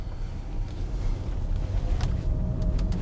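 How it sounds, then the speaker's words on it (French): A NIO EL6 electric car drives along with a steady low road rumble and a faint tyre hiss inside the cabin, and no engine note. "Premier kilomètre donc au volant de ce NIO EL6."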